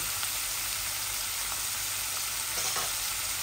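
Radish and carrot fry in a pan with a continuous dense sizzle and crackle, a few soft stirring scrapes breaking through, steady and close with no talking.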